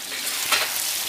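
Mutton curry frying in a pan as it is stirred, a bright steady sizzle with a brief scraping swell from the stirring partway through.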